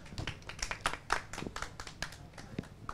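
An audience claps for a speaker at an SKK Migas event: scattered, fairly quiet hand claps with an uneven rhythm that keep going for a few seconds.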